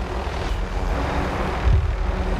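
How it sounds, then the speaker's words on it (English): Helicopter in the Warzone battle royale video game, a steady low rotor and engine drone held at even loudness through the whole stretch, with a brief heavier thump near the end and no talk. "I'm about to pull up on him now on my helicopter."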